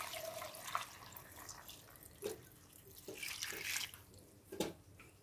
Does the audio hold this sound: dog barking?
no